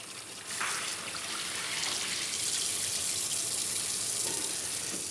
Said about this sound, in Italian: Diamo una bella lavata al cavolfiore.